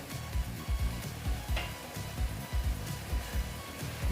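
Ash gourd curry with grated coconut, a Bengali-style vegetarian dish, being stirred in a pan: repeated soft scraping strokes in an even rhythm over a low, close sizzle.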